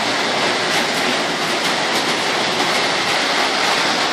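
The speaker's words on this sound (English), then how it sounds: "off this train goes" A Lionel postwar model train rumbles steadily along its track with a continuous rolling clatter, fairly loud and close throughout.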